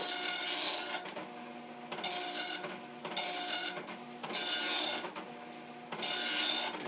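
Commodore NX-1000C dot matrix printer printing a test page in regular and bold print, giving loud rasping bursts of head travel about a second long, separated by short quieter pauses in a steady repeating rhythm.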